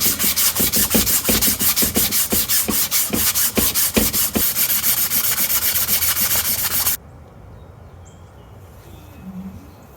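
A pitted axle on a Chevelle wagon is rubbed with 320 grit sandpaper: quick, loud, rhythmic back-and-forth scratching strokes for about seven seconds, then the sanding stops and only faint background noise remains.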